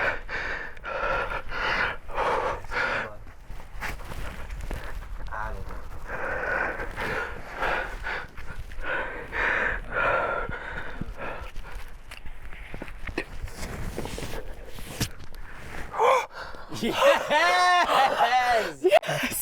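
A climber breathes hard while bouldering, with heavy rhythmic breaths and grunts running throughout under loud encouraging shouts from others, ending in a burst of strained effort.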